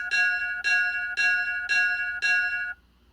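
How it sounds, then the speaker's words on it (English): A bell sound effect from a Scratch-coded timer program rings five times in a steady, evenly spaced sequence, each chime bright and sustained before a short silence at the end. "I've got it 6 times making its bell sound."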